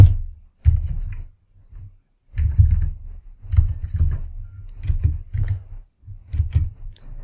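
Close, soft clicking keystrokes from a computer keyboard while code is typed, coming in irregular clusters separated by short silent gaps.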